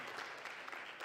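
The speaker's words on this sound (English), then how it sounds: "I wasn't fishing for a round of applause" An audience breaks into a short burst of applause, a steady patter of clapping hands with no voices over it.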